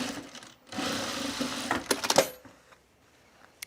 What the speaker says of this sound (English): I'm going to stitch it down over here to stabilize it on the edge.